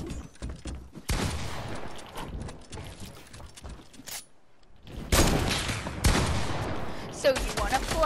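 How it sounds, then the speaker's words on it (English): Assault rifle fire in the video game Fortnite: loud, dense bursts of rapid shots with mechanical clatter, broken by a short pause before heavier volleys return, with no voices over the firing. "Now I'll just try to spray you with the AR."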